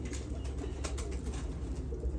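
Modena pigeons coo softly in a loft. The low, throaty calls repeat under a steady background murmur of many birds, nearby but not loud.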